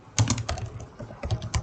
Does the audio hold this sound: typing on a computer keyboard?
yes